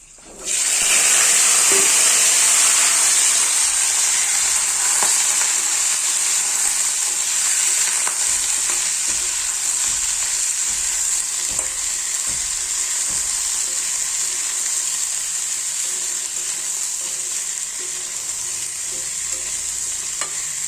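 Cumin seeds and drumsticks fry in hot oil, with a loud, steady crackling sizzle that starts abruptly and continues for the whole stretch, broken only by small stirring clicks.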